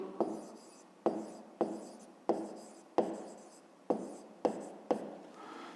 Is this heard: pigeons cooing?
no